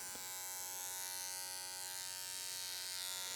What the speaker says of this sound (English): So back to our clipper over comb.